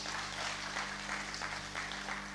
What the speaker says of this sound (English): I think you still deserve one more round of applause.